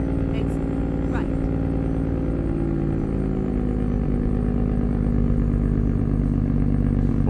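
A heavy, loud low truck engine-brake drone with a rattling, stuttering rumble, continuous throughout, with a voice speaking over it, from a Freightliner Argosy in American Truck Simulator.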